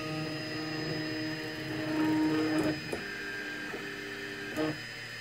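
An Anet A3 3D printer auto-homes, its stepper motors whining in faint tonal pitches that step and shift over a steady electrical hum, with a few soft clicks as axes reach their stops.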